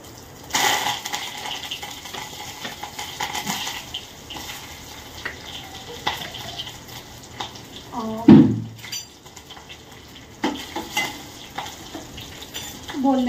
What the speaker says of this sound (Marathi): स्वतः फटाफट मी हे त्याच्यात जिरे मोहरी टाकते.